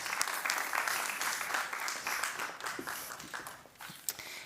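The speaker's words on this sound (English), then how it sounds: "Can I get a round of applause for Professor Dr." Audience applause at a balneology congress for a professor's talk, a sustained wash of clapping that gradually tapers, with a brief voice and a few louder claps near the end.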